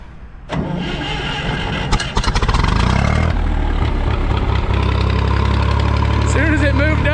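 A Massey Ferguson 135 tractor engine cranks and catches, then runs loud and close with a rough, throbbing idle that rises as it is given gas, with a voice briefly heard near the end.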